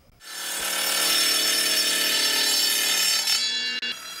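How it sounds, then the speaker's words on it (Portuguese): A saw blade cuts through wood in a workshop where guitars and violas are made by hand, giving a loud, steady, close rasping whine that holds for several seconds before tapering off. "A madeira que é cortada na serra"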